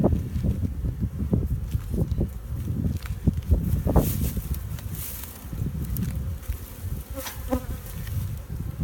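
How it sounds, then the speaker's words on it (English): Honey bees buzz steadily around an open beehive during a hive inspection, a dense close drone with individual bees passing near, plus faint rustling and handling noises beneath; no talk. "Love seeing these bees with pollen on their legs."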